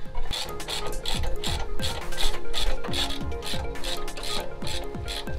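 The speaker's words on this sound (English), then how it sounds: "I'm just going to try to bolt up the caliper right away." A ratchet bolts up a brake caliper on a Lexus GX470 during a brake pad and rotor change, clicking in quick repeated bursts of strokes, close and steady with no talking.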